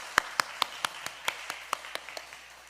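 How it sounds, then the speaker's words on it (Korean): A church congregation claps in a slow, even rhythm, about eleven soft claps spaced roughly a quarter second apart, faint and fading toward the end. "우리 박수로 한번 축복하겠습니다"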